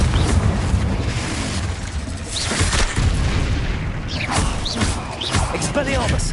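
A Confringo blasting spell goes off in the Hogwarts Legacy video game, heard as dense booming bursts over a constant rumbling game soundscape, with several sharp impacts landing close together.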